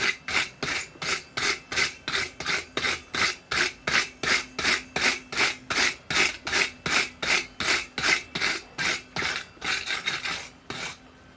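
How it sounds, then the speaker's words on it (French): A brush scrubs a forged metal Mjolnir pendant in steady, even strokes, about thirty close rasping passes at a regular rhythm before stopping near the end. "On va passer un bon coup de brosse."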